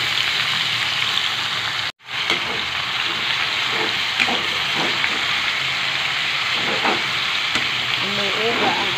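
Meat for adobo fries in a pan with a loud, continuous close sizzle and crackle, broken by a brief silence near the start and a few stirring scrapes.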